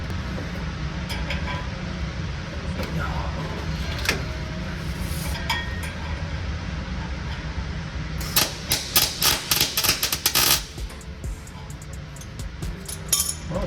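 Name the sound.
welding a hanger onto a Cummins truck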